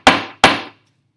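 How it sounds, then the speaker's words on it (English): Two sharp, ringing hammer strikes hit a solid metal test sample during a chemistry lab on metals and nonmetals. Each blow is loud and close, with a short decaying ring, evenly spaced with no talk. "we'll hit this substance with the hammer"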